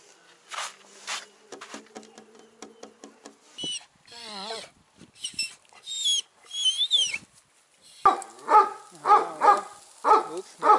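A dog barks indoors at a family home, a run of short, fairly loud repeated barks near the end, with people talking and a voice earlier.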